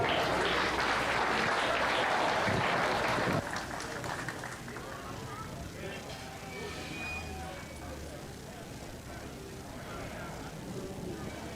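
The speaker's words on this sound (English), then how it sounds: "Give all these kids a round of applause." Crowd applause in a junior fair show arena after a sheep class, a dense loud wash of clapping that drops in level partway through and thins into scattered claps and murmuring.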